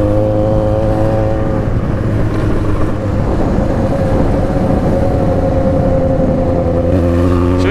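A Yamaha XJ6 motorcycle engine runs steadily and loud throughout the ride, with a continuous droning hum and a brief rise in revs near the end.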